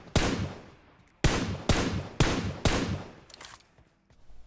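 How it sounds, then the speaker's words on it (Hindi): Gunfire in PUBG Mobile cracks in four sharp, evenly spaced reports with decaying tails, followed by a fainter shot, the bursts spread over a few seconds with no talk. "अब वहां दूर कहीं पे बॉट किसी को तो गोलियां पेल रहा था।"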